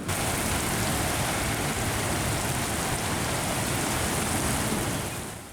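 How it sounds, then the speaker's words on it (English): Heavy rain during a severe thunderstorm with hail, a dense, loud, unbroken roar of downpour on surfaces that stays steady for several seconds before easing slightly at the very end, with no voices. "the rain has arrived along with severe thunderstorms, hail, and possibly a tornado"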